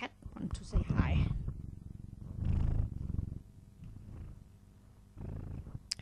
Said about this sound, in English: now my cat wants to say hi